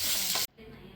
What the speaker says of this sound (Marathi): त्या तेलामध्ये थोडा बटाटो भाजून घ्यायचा आहे.